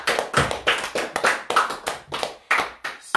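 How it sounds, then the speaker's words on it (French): A church congregation claps for Jesus in a steady rhythmic beat, about three claps per second, crisp and close with no talk over it. "Est-ce qu'on peut applaudir pour Jésus?"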